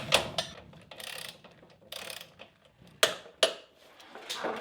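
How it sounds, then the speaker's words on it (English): A ratchet wrench tightens the chain adjuster lock nut on a Honda Grom motorcycle, giving short bursts of rapid clicking with crisp single clacks between them, close and fairly quiet with no talk. "I'm gonna go ahead and tighten that lock nut down."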